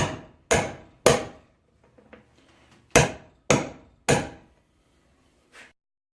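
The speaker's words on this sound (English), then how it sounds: "Take your hammer and your stud driver, line them up like so, give her a good couple whacks." Sharp metallic hammer blows drive a stud driver into a dirt bike tire, two quick hits, a pause, then three more, each ringing briefly in a quiet room.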